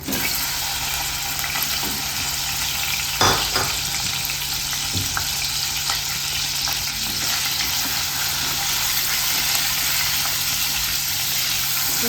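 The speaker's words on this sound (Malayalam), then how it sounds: "ചൂടായ ഓയിലിലോട്ട് ഈ പനീർ ഇട്ട് കൊടുക്കാം." Paneer frying in hot oil, a steady close sizzle and crackle throughout with a couple of soft clinks, no talk.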